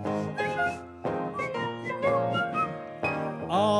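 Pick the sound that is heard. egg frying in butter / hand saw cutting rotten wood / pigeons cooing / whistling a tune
whistling a tune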